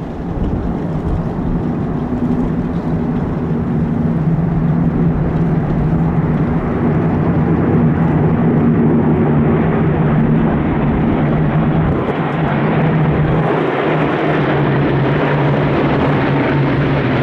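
Propeller aircraft drone at an airshow as the Red Bull D38 comes in to land on the main runway, followed by a B-25 bomber; a loud, steady engine roar with a low humming tone, continuous and without speech.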